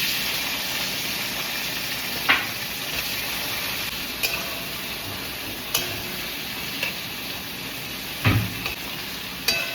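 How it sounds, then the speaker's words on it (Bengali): Onions sizzle and fry in a hot pan, a steady crackling hiss with occasional sharp clicks of stirring. "এবার এর মধ্যে দেবো পেঁয়াজগুলো"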